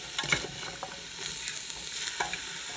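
A spoon stirs chicken soup in a pot, giving soft scraping swirls over a faint simmering hiss, close and fairly quiet with no talking.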